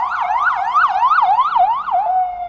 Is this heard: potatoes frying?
no